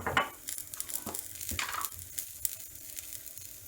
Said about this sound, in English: At this stage I will add the masalas and roast them